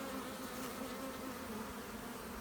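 Honey bees from a recently caught swarm hum in a dense, continuous buzz at the hive, close and steady with no other sounds.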